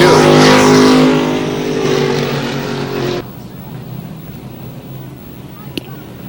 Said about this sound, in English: Donnie Horvath gives him the green, and the street stocks are underway.